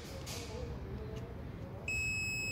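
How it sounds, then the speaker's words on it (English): An Autel AL539 multimeter set to continuity gives a steady electronic beep when its test leads touch, the tone starting near the end and holding loud and continuous over faint room noise. "it's beeping when I'm connecting my leads"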